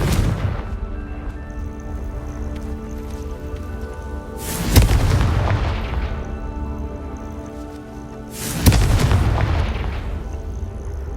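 Confringo spell explosions in Hogwarts Legacy on PS5, two heavy booming blasts a few seconds apart over a constant low ambient rumble of game background sound, with no talking.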